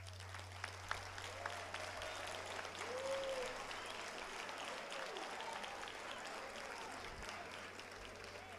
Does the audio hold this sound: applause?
yes